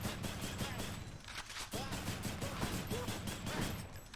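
Gunshots in the Hades video game, fired in a steady rapid series and dense and loud throughout, under game music and effects with no speech.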